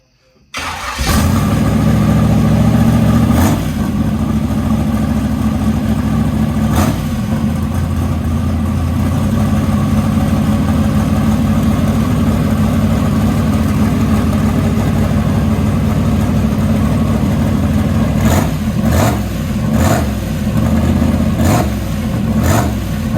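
A 421 small block truck engine fires up after a brief starter crank, settles into a loud, steady, rumbling idle, and is blipped with several short revs near the end.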